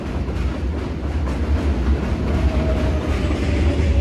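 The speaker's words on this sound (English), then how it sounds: "It was a J train." A J train rumbles along elevated tracks in East New York, Brooklyn, a steady loud low roar with faint rail squeal, heard alone without voices.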